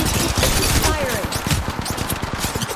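Rapid bursts of automatic gunfire in a ranked match of the mobile shooter Apex Legends Mobile, firing continuously and loud, with a dense, rattling rhythm throughout.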